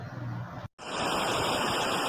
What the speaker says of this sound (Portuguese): Quando você ligar o chuveiro, fica bem forte.